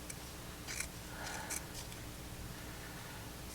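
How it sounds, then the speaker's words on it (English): Scissors snip downward through craft material for a beach landscape project, a few quiet crisp cuts in a quiet room. "I'm going to cut from the top here down"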